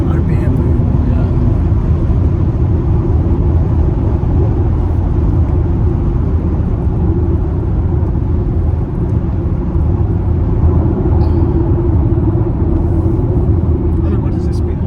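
A Volkswagen Touareg SUV driven at speed, its engine droning loudly and steadily with dense road rumble throughout, under ongoing conversation inside the cabin; no distinct downshift stands out.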